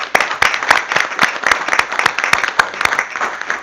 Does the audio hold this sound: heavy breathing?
no